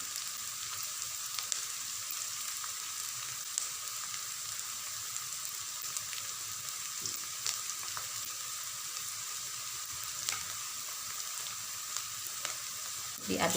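Vegetables for capcay, a simple Indonesian vegetable stir-fry, sizzle steadily in hot oil, with a constant close frying hiss and occasional scrapes and clicks from stirring, no voices.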